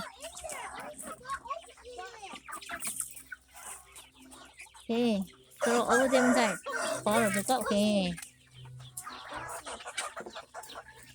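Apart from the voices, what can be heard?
roosters clucking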